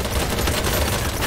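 Loud, dense gunfire in the video game BattleBit Remastered, a continuous rattling fusillade of overlapping shots, close and heavy, with no talking.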